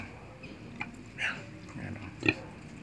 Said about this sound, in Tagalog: Ito yung pinakamalaking baboy natin dito.